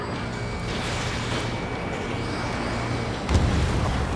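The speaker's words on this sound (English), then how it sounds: "The harbor's under heavy fire!" Heavy fire and explosions pound a harbor in Ace Combat 7, a steady roar of combat noise with a sharper blast near the end.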